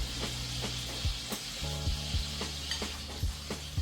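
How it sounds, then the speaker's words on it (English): Fish or vegetables sizzling in a hot frying pan while being stirred, with steady frying hiss and intermittent scraping and clinks of the utensil against the pan, close and alone without voices. "To give that a stir."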